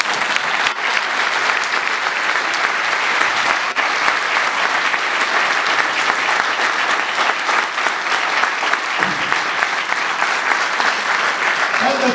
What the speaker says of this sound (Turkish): hepinizi kutluyoruz, alkışlıyoruz